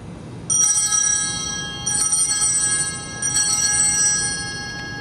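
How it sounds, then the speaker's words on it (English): Altar bells rung during Mass, three distinct bright rings spaced about 1.5 seconds apart, each leaving a shimmering metallic ring that lingers, close and clear with no talking. "you take those bells and you just give them three rings"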